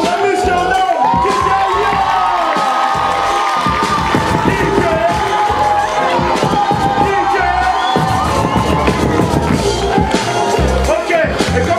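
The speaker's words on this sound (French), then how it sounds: "Faites un maximum de bruit" A large crowd roars and cheers continuously, with whoops and shouts blending into a loud, sustained wall of noise.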